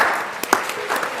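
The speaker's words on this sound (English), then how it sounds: "Give yourselves a round of applause." A conference audience at the ONA 2016 lightning talks applauds with dense, continuous clapping for just over a second.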